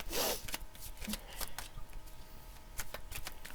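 A tarot card being drawn and handled from the deck, giving quick papery shuffles and flicks close by, with a sharp burst at the start and lighter card slides after it, with no speech.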